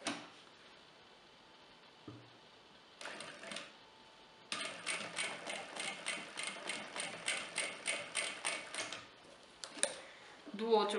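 A sewing machine stitches a seam through the fold of a fabric Christmas tree skirt, running in a steady rapid chatter for several seconds after a few short starts, close and fairly quiet.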